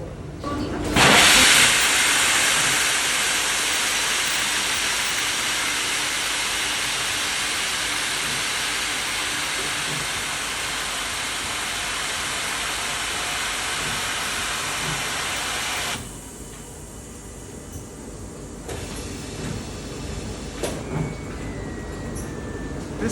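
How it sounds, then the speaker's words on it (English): A steam table at a Portugal sweater factory blows steam up through a knitted lobstermen's sweater, a loud, steady, close hiss that starts abruptly and runs for about fifteen seconds before cutting off, leaving quieter workshop noise. "the measurement table, which is actually a steam table that projects steam up through the garment"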